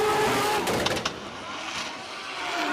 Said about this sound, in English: you hear that 2J popping underneath the hood of that GR86